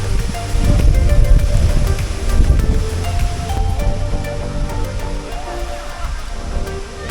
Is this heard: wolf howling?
no